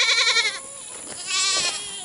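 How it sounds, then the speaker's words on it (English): Goats of a Nigerian and Kiko cross bleat loudly and close by on a small farm, one wavering call followed by a second after a short pause. "now this is our little goat herd"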